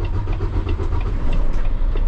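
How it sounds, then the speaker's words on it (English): A truck tractor's engine runs with a loud low rumble right at the start of a coupling procedure, a steady close diesel throb with no voices. "Turn your tractor on."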